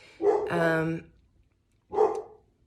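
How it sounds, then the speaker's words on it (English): A pet dog barks close by indoors, two sharp bursts about a second apart with the second shorter, loud and alone without talk. "Sorry, my dog's going off."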